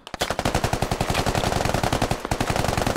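Rapid, close automatic gunfire in the shooter game Squad, a long sustained burst of evenly spaced shots with a brief pause before firing resumes, loud and dominant.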